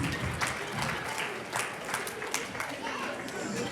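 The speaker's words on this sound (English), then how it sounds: "Please join me, put your hands together. Just clap" A crowd at a memorial gathering for a doctor breaks into dense, continuous applause of many hands, with voices mixed in beneath the clapping.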